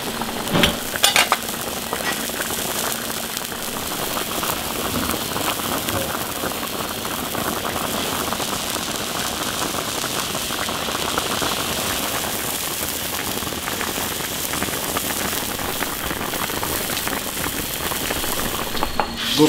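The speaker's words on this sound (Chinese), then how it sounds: "鲍鱼下进去，再煮5分钟。" Abalone boiling in a pot, a constant, dense bubbling and hissing like rain on a surface, sustained loudly for the whole stretch with a few sharper clicks near the start.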